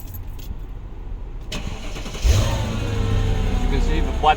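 A Mercedes SL 500 with a dead trunk battery cranks and fires up on its second battery under the hood, the engine catching midway and settling into a steady, close idle rumble after some earlier handling noises.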